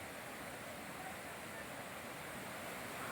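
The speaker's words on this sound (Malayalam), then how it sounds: "അത്രയ്ക്ക് അടിപൊളിയാണ് വെള്ളച്ചാട്ടം" The Aruvikuzhy waterfall sends out a steady, even rush of falling water that sounds faint and distant.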